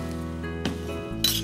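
Cabbage drops into a pan of hot garlic that is browning, bringing a short clatter of utensils against the pan and a brief burst of sizzling hiss over a steady hum.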